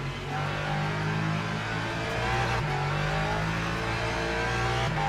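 A Lexus race car engine in Le Mans Ultimate holding a loud, steady high-rev drone with slight pitch shifts, constant and close with no pause.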